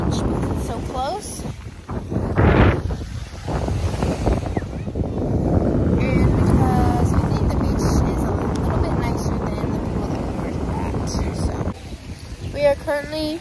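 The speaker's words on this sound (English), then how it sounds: "there's a lot of wind right now" Strong wind buffeting the microphone at a beach in Venice, Florida, a loud continuous rumbling roar with people talking intermittently over it.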